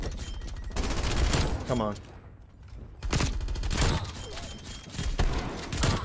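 PPSh-41 submachine gun fire in a Nuketown match of a first-person shooter game, loud bursts of rapid automatic shots with a brief lull midway, under excited talk from a player.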